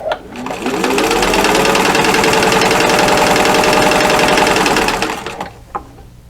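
A sewing machine stitches a pillow cover at about 10 to 12 stitches per inch, a loud, steady mechanical whir that spins up, runs evenly for several seconds, then winds down and stops, close up.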